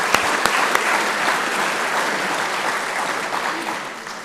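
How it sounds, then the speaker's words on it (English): An audience at a Veterans Day event applauds steadily. The dense, even clapping fills the whole stretch and fades slightly toward the end. "So I'm going to give you a second applause."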